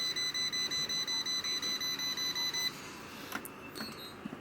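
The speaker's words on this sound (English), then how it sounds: "This is a voltage detector. Let me go to a power source here. You can see it detects the voltage." A handheld voltage detector held near a live household power source gives a rapid, regular pulsing beep, about a dozen even bleeps over two and a half seconds, then stops, leaving faint room noise and a few small clicks.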